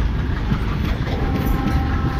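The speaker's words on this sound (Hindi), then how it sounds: "इतनी बेहतरीन चुगिंग" A WDM 3D diesel locomotive hauling train 11328 at Izzatnagar rumbles steadily at night, a dense, continuous, close and loud engine and rail roar with no talking.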